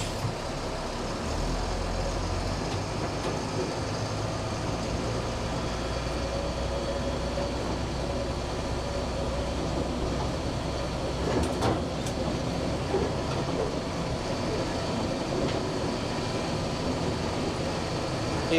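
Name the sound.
LMTV military truck driving on the street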